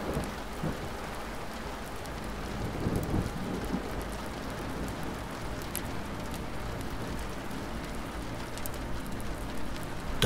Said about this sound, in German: als der Regen auf die Straße fiel